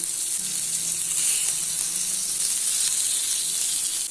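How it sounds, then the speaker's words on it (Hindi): Pieces of fish tikka fry in a pan over a medium flame, giving a steady, close sizzle with a bright hiss that holds evenly for a few seconds with no talking. "अभी इसको मीडियम फ्लेम पे 2 से 3 मिनट तक फ्राई कर लेना है।"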